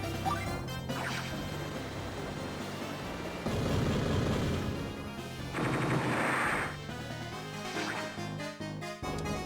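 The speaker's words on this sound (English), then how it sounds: "So go ahead and fire a full salvo" A battleship in Advance Wars: Dual Strike fires a full salvo: loud, crashing game blasts fill most of the stretch, with bursts near 3.5 and 6 seconds over steady background music.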